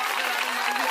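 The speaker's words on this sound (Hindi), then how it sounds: "जरा एक बार ताली वाली बजाइए।" An audience at a Hindi comedy poetry show breaks into steady, dense clapping, a continuous wash of applause heard for a brief moment.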